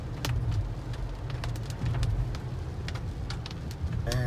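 Rain patters on a 2019 Toyota RAV4 Hybrid XSE while it is driven, a steady wash of droplets over low road rumble, with sharper individual drops ticking against the car.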